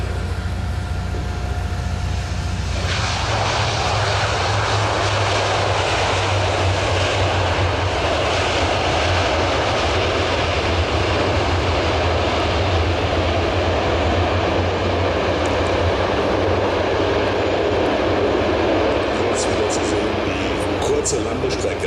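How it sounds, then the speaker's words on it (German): Airbus A400M military transport aircraft making a very short landing at an air show, its loud, broadband turboprop roar building after a few seconds and holding steady and close throughout, with a low rumbling drone underneath. "the A400M making a very short landing"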